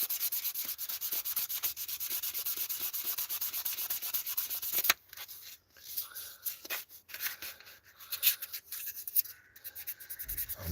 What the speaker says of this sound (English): Just cleaning up the old gasket off the head of a cylinder before we re-ring it